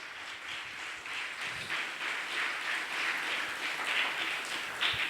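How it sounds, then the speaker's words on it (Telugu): Congregation at a Sunday Holy Mass clapping together, a sustained, moderately distant patter of many hands in a church hall that swells and continues throughout. "ఈ శ్రీసభలో మనందరం కూడా భాగస్థులమైనందుకు గట్టిగా చప్పట్లు కొట్టండి."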